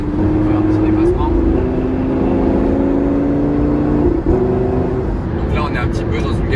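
A Lamborghini Gallardo LP570 with its V10 engine heard from inside during an overtake, a loud droning hum that rises and falls through the gear changes, with a voice talking over it.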